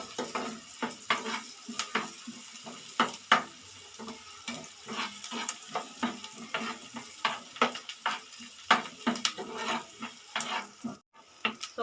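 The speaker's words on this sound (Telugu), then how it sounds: "ఆనియన్ పచ్చిమిర్చి ఇప్పుడు వేసుకున్నాం కదండి ఇది బ్రౌన్ కలర్లోకి రావాలి" Chopped onions and green chillies sizzling in a pan while being stirred for an egg omelette curry, with repeated scraping strokes of a spoon over a soft, steady fry, close up and without talk.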